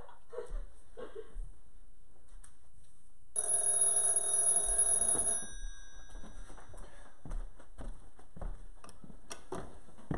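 A single telephone ring tone signals an incoming call and lasts roughly two seconds. It sounds clearly against a quiet background, with light movement and faint voices around it.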